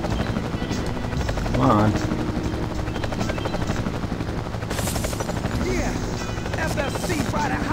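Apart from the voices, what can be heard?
helicopter chasing the player in Marc Ecko's Getting Up video game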